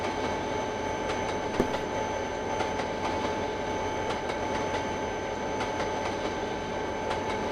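A long freight train of 120 axles rumbles past steadily at 33 mph in the Trainz 2010 simulator game, a continuous rolling drone with faint rhythmic clicks of wheels over rail joints, no voices.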